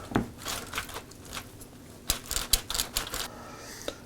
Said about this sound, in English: I'm gonna cut us a pork chop right out of the middle here